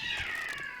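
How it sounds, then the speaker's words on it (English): Cats fight in the video game 7 Days to Die, a brief, close, strained meow-like yowl with no talk over it. "Cat fight."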